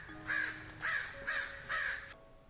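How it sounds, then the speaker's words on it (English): Four loud, harsh crow caws come in an even rhythm, each a short rasping call spaced about half a second apart, heard alone over faint background hiss. "The sound of crows filled the darkness as the wind began to blow."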